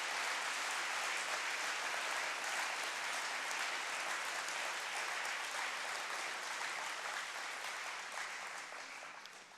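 A large crowd applauds steadily, a dense, loud wash of clapping that holds for several seconds and then starts to fade at the end.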